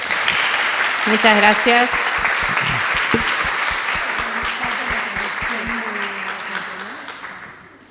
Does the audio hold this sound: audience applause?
yes